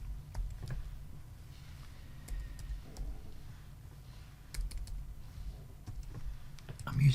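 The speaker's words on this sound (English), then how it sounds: "I'm using a different keyboard because it's quieter." Clicks and taps from a quieter computer keyboard being typed on in irregular bursts, soft and close over a low steady hum.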